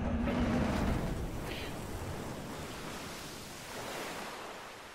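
Steady ocean surf washes around a small fishing boat in the game DREDGE, a soft continuous rush of waves and wind that fades slightly mid-way and swells again, with no voices.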